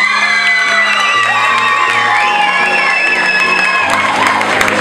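A crowd at the Miss Fashion 2016 semi-final cheers, shouts and applauds a finalist, a loud continuous roar of voices and clapping over music.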